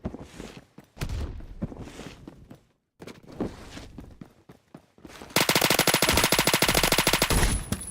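Rapid shotgun and automatic gunfire from a video game in several loud bursts, with short pauses and footstep-like shuffles between, ending in a dense, sustained barrage.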